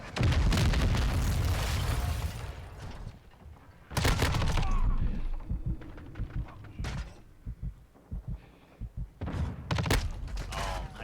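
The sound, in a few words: close air support strike explosions in video game Call of Duty: Modern Warfare 2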